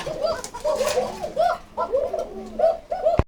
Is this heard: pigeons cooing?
yes